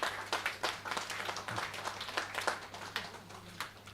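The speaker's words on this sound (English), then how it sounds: "So give a round of applause to our Secretary." Scattered audience applause for the secretary at a Catholic press association convention: distinct individual claps in an irregular rhythm, moderately distant and fairly quiet, with a faint low hum beneath.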